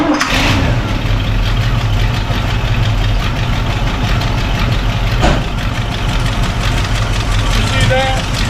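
A square-body Chevrolet truck engine with a new radiator cranks, catches and settles into a steady, loud idle close to the microphone, with a brief blip partway through and a voice talking over it.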